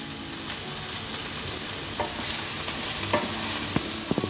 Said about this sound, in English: this needs to cook for 2 or 3 minutes until the bacon starts to turn golden